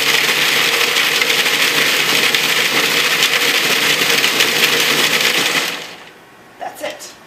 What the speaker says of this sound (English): I'm just going to use the pulse because it's just going to get processed just a little bit, just to break up the raisins and cilantro mainly